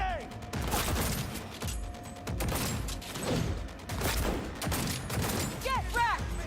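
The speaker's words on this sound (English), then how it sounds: "I love this gun, dude." Gunfire from a gun in a first-person shooter video game: continuous rapid bursts and booming shots layered with mechanical clatter and game effects, loud and dense throughout.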